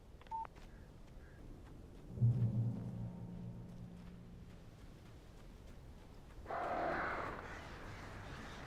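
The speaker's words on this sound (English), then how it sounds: "Birds." Crows caw from the dark woods in the Alan Wake game, a few harsh calls at medium distance, with faint electronic beeps near the start. No voices.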